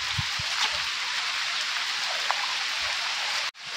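Heavy rain pours steadily on a trek to Butterfly Beach in Goa, a dense, close hiss with scattered drops, cutting off abruptly near the end.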